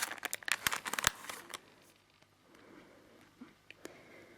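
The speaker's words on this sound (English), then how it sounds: "He has like 2 tapes around his, but I think I'm gonna remove them with my scissors maybe." Scissors snip tape wrapped around a Sonic Boom SFX figure, giving a quick burst of sharp clicks and cuts that fades into soft, faint rustling of tape and packaging.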